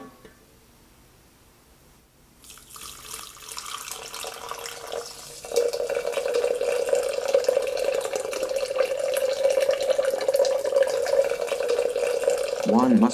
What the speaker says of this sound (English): slowly pour steaming water on the grounds until the appropriate amount of water is added